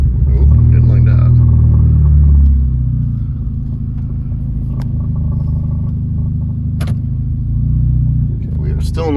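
A Nissan car engine idles with a deep, steady rumble, and the throttle is blipped early on for a louder surge before it settles back. Someone talks briefly over the engine.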